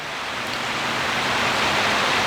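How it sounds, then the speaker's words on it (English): Light rain falling outside a home, a steady even hiss of drops that stays constant and fairly loud throughout, with no voices. "It's starting to rain right now a little bit,"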